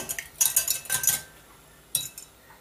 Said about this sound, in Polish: Zuzia musi to teraz wymieszać i ubić